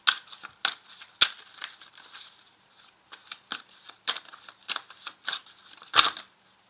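Oracle cards being shuffled by hand with several spilling out: quick crisp riffles and papery flicks in uneven bursts, close and moderately quiet, without any speech.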